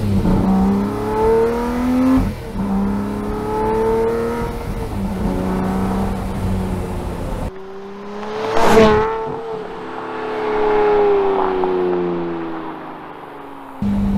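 A Lamborghini Murcielago roars through hard acceleration, its exhaust climbing in pitch through the revs, easing off for a gearchange, then building again in a second loud, sustained pull with no talking over it.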